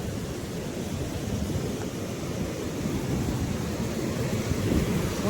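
A mountain river rushes in a steady, full roar beneath a wooden log footbridge on the Madhyamaheshwar trek in the Himalayas; the broad, hissing torrent stays close and continuous throughout, with no voices.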